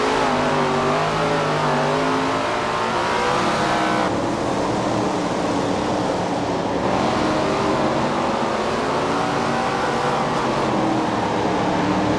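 A field of super late model race cars in the SRX video game roars off the start at a quarter-mile oval in Virginia, a dense, continuous wall of revving engines that stays loud throughout, with shifts in pitch as cars accelerate.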